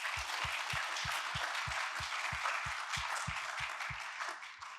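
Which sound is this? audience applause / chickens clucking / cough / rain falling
audience applause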